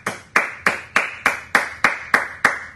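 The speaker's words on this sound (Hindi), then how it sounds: "जोरदार तालियां उनके लिए।" A crowd at a training session event claps in unison, about eight loud, evenly spaced claps in a steady rhythm, each ringing briefly before the next.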